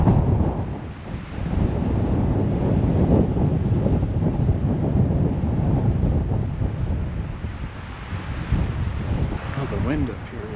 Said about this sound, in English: Oh, the wind up here is crazy. It's just whipping across the top.